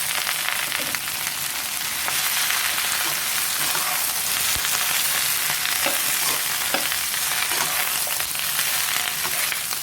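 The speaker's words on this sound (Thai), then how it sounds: "จากนั้นใส่ปลาลงไปเลยค่ะ" Canned fish stir-fried in hot oil with kale, a loud, steady, hissing sizzle filling the whole stretch, with faint scraping of the spatula now and then and no voices.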